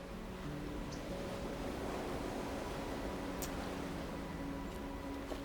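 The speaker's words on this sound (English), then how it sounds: "And we can hear the ocean." A steady, dense wash of ocean surf noise rolls on without pause near a seal rookery in Carpinteria, with occasional faint bird chirps high above it.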